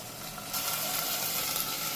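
Tomato and fenugreek leaves fry in a pan as part of a green-gram dal, giving a steady, close hiss that jumps louder about a quarter of the way through and stays high and even.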